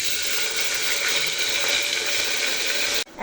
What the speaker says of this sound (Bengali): এখন দিয়ে দেব সামান্য পরিমাণ পানি